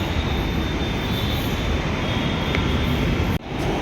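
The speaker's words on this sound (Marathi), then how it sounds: "तर आता आमची ही मेट्रो आलेली आहे." Pune underground metro train pulling into the station, a loud continuous rumbling roar with a steady high whine that cuts off abruptly near the end.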